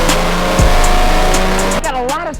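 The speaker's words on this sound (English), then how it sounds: "Let's see how this truck rips on the dyno." A truck at an Atlantic City truck meet roars on a mobile dyno, its engine revving loud and close with a rising then wavering pitch, heavy exhaust blast throughout.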